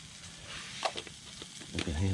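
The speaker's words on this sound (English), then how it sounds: "You can hear that frying already." Bacon lardons sizzle softly in a pan on a Trangia mini stove, a faint continuous crackle with a few louder pops and stirring scrapes.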